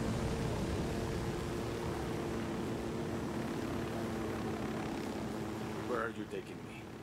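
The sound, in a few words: helicopter in the video game Ghost Recon: Wildlands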